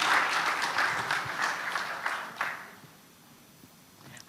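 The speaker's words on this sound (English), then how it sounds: "let's give them a round of applause." An audience applauds a married couple of eleven years, steady clapping rolling at moderate volume for a couple of seconds before fading out into quiet room tone.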